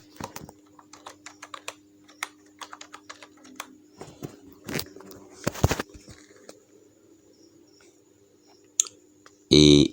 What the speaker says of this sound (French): J'appuie encore sur tabulation, pap, elle vient s'aligner là.